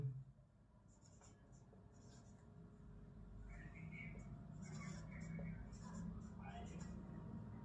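Chalk or marker scratching faint, intermittent strokes on a board during a maths lesson on surface area and volume, heard quietly beneath low background murmur.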